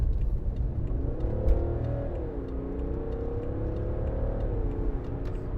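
A 2015 BMW 535d diesel saloon pulls away hard from a standstill onto a dual carriageway, its engine note rising steadily through the revs, then shifting and climbing again, heard from inside the car with road rumble beneath and no talking.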